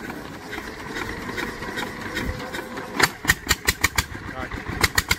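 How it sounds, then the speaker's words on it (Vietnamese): A fishing boat's engine, just fitted with a repaired propeller shaft, cranks and catches with a run of rhythmic putting pulses in the second half, after a stretch of background noise and faint voices. "Rồi, khởi động máy nha."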